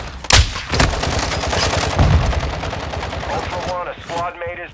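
Dense, loud automatic gunfire in Call of Duty Warzone DMZ, with overlapping rapid bursts and a heavy opening blast, fading to scattered shots as a radio-style voice speaks near the end.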